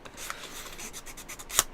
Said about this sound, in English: I am just sanding to get rid of the rough edges